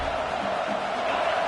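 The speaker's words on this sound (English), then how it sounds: "This crowd bringing the energy and noise early." Stadium crowd in a college football video game, Alabama versus Texas A&M, making a dense, loud, continuous roar of cheering spectators with no gaps.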